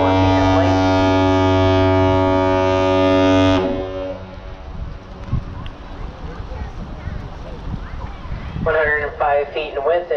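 A deep, powerful foghorn blast from the 1,004-foot Great Lakes freighter Edgar B. Speer, built in 1980, sounding loud and sustained for about three and a half seconds as it enters the Duluth Ship Canal, then cutting off into wind and distant crowd voices.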